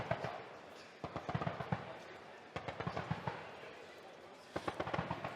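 12.7 mm incendiary rounds strike a target at a live-firing demonstration, producing clustered bursts of distant, crackling pops and bangs in three separate volleys, with people talking in between.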